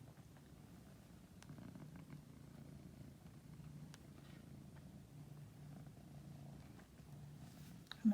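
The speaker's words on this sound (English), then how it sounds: "I'm not sure whether you can hear my cat." A pet cat purrs softly in a quiet room while being stroked during a cross-stitching session, a faint, steady, low rumble that continues unbroken throughout.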